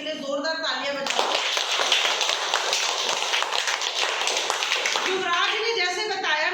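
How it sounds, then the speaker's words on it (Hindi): Children in a classroom break into loud, dense clapping for a young volunteer, a steady burst lasting several seconds, with kids' voices chattering before and after. "इसके लिए जोरदार तालियां बजाओ।"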